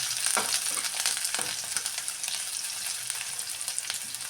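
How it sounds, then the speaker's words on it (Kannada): Ginger-garlic paste and vegetables fry in a pan with a dense, continuous close-up sizzle, and brief stirring scrapes rise over the crackle now and then. "ಶುಂಠಿ ಬೆಳ್ಳುಳ್ಳಿ ಪೇಸ್ಟು ತರಕಾರಿ ಕುಟ್ಬಿಟ್ಟು ನಾವು ಹಾಕೋಬೇಕು ಹಾಕೊಂಡ್ಬಿಟ್ಟು ಹಿಂಗೆ ನಾವು ಫ್ರೈ ಮಾಡೋಣ"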